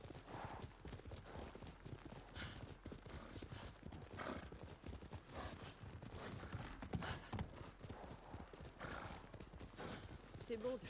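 Horse hooves while riding in Ghost of Tsushima: a steady, rhythmic clip-clop of galloping with a brief whinny, running under voices talking.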